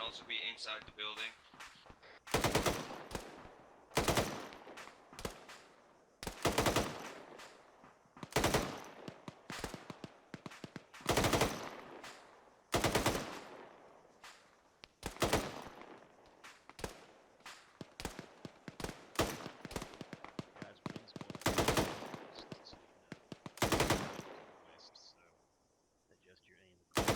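Airsoft guns fire during a milsim game near a building, in repeated loud bursts and single shots spread through the whole stretch, with radio-style voices talking between them.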